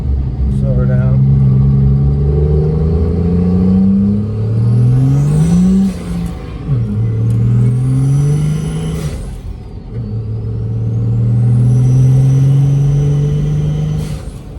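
A 2005 Cummins diesel pickup pulls hard in third gear, its engine drone rising in pitch through long sweeps, dropping at shifts and climbing again, loud and close inside the cab with someone talking over it.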